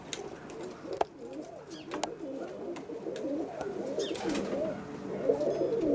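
A roller pigeon coos repeatedly in soft, low, rolling phrases close by, with light scratching and faint background noise around the loft.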